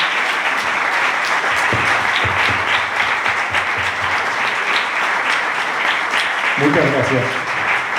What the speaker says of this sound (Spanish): le vamos a dar un aplauso para todos los staff